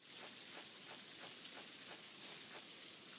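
Steady rain ambience from the farming game Stardew Valley, a soft continuous patter with faint rhythmic drops, quiet and unbroken, with no voices.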